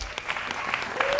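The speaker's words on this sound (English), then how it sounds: "Let's give her a warm round of applause." Audience applause greets a singer coming on stage at the 6th annual Timmy awards show in 2003, a steady wash of many hands clapping at moderate distance for the whole moment.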